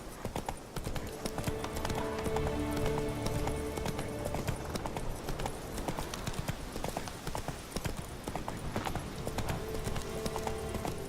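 Hooves of a galloping horse in The Witcher 3 drum in a steady, rapid rhythm up close, joined by game music and a brief whinny, with no talking.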